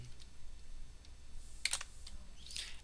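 Faint computer keyboard typing in a quiet room, a few soft scattered keystrokes followed by a sharper cluster of clicks and a final short burst.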